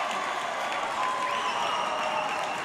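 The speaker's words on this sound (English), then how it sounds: "the Lions right now trying to get their crowd going" Crowd at a college volleyball match in a fifth set, steady applause and scattered cheering filling an indoor gym, sustained and fairly loud throughout.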